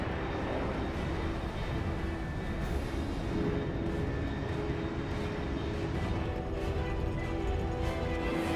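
A fast aircraft streaks overhead in the stealth video game Metal Gear Solid 3: Snake Eater, a steady, broad jet roar holding level throughout with no speech.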